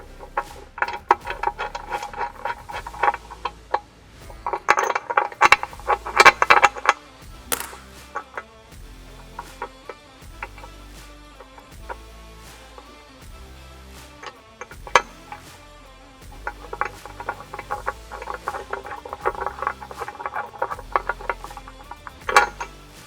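Small metal parts click and ratchet in irregular bursts as a nut is started by hand and tightened with an Allen key while a Game Loader Rack is installed on a CFMOTO UForce 1000, close and fairly quiet.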